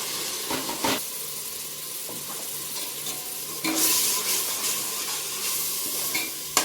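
Onion and tomato sautéing in oil for pav bhaji, a close sizzling hiss broken by repeated stirring scrapes and a louder burst of steam midway, no voices.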